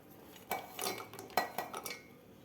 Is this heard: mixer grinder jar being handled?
yes